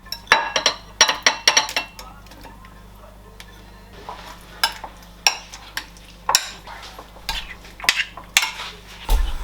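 Spoon stirring paneer into a spiced yogurt mixture with chili powder and garam masala in a bowl, giving repeated sharp clinks and scrapes in uneven bursts over a low steady hum.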